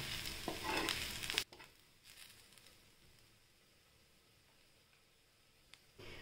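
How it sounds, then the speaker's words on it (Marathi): Onions sizzle loudly in hot oil at first, then the frying settles into a quieter, steady crackle. "हा कांदा आपण थोडा परतून घेऊया व्यवस्थित."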